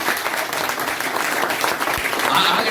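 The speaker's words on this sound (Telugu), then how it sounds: "ఇప్పుడు కొట్టండి చప్పట్లు" A church congregation claps steadily and loudly throughout a Christmas service, a dense, continuous wash of hand claps with a few voices faintly mixed in.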